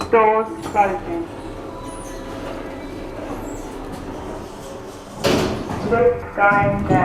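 Sliding lift doors close with a loud swishing rush and bump, framed by chime tones at start and end and a continuous low hum of the lift car, with a spoken announcement.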